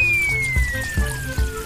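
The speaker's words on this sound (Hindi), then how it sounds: "उसके बाद डालेंगे कुकर के अंदर पानी" Water trickles and splashes steadily into a pressure cooker set up as a homemade steam boiler, a close, continuous pour with faint sloshing and no voices.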